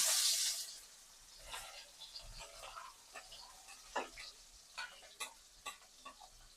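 Onions and chilies sizzle in a pan while being cooked for noodles. A brief hiss of frying at the start is followed by quiet, irregular scrapes and clinks of stirring, close and fairly soft.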